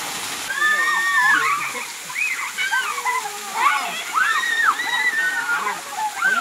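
Water pouring and splashing at a private waterfall resort, a continuous rushing wash with voices, including children, talking and calling over it throughout.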